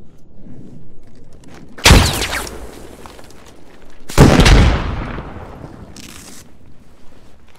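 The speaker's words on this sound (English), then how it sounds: "I'm putting a grenade in it." A grenade explosion and gunfire in the military shooter game Squad: two loud, booming blasts a couple of seconds apart, each trailing into a long rumbling decay, followed by a shorter, fainter burst, with low background ambience and no talking.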